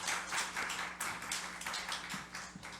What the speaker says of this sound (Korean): 다시 한번 박수로 함께 했으면 좋겠습니다.